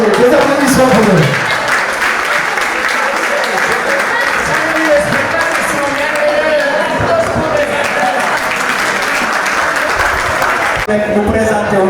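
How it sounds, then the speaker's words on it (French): A crowd claps steadily at an international arts festival gathering, broad sustained applause with voices and shouts woven through it, continuing at an even level for the whole stretch. "Des applaudissements pour eux."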